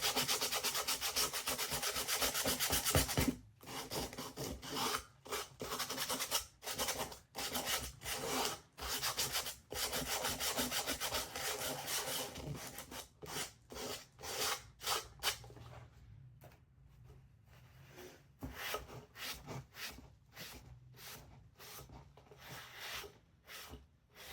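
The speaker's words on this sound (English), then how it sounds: "Now I'm gonna sand this down." Sandpaper rubs by hand over a thrifted item being prepared for paint, making rhythmic, close, scratchy back-and-forth strokes that pause now and then and grow softer toward the end.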